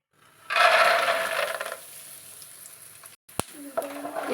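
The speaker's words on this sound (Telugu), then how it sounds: "ఇప్పుడు ఈ పల్లీలు కూడా ఫ్రై చేసుకుందామండి" Peanuts tipped into hot oil burst into a loud close sizzle that eases into a quieter steady fry, followed by a sharp clack of a utensil and more stirring.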